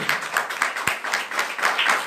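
Church congregation clapping during an evening service, a steady rhythmic beat of many hands at moderate loudness, with no voices.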